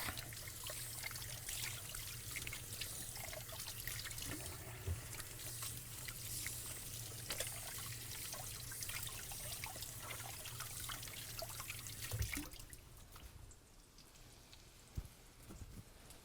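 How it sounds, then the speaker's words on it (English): Water trickles and splashes steadily from a kitchen tap during handwashing for about twelve seconds, then stops, leaving quiet room noise with a faint knock. "I'm gonna wash my hands really quick."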